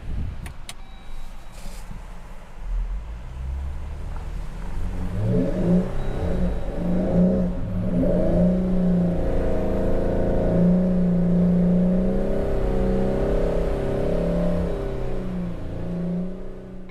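A Jeep Gladiator engine revs and strains while stuck in soft beach sand on an overland trip in South Australia, loud rising whir with wheels spinning, sustained and close, no talking.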